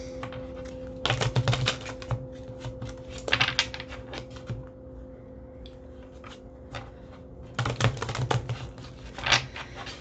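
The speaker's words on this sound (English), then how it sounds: "Let me get a good shuffle on the Bianco Nero." A Bianco Nero tarot card deck being shuffled at close range, with bursts of crisp riffling and flicking in several clusters separated by quieter handling pauses.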